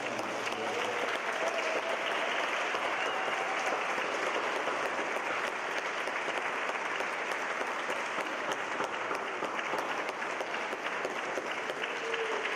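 A sustained round of applause at a university reception honoring Dr. Anila Jain, even, steady clapping from a gathered crowd heard at moderate distance, continuing unbroken for over twelve seconds.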